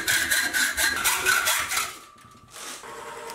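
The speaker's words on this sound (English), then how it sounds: "I can now cut the main shaft to length." Rapid rhythmic rasping strokes of a saw cutting a metal screwdriver shaft to length, loud and steady, then a brief pause before lighter scraping resumes.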